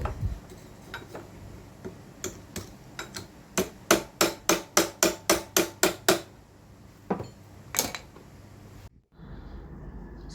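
Sharp hammer blows strike a wood block to seat a drill chuck on a small drill press, first scattered, then a rapid even run of about a dozen knocks, trailing off into a few final taps.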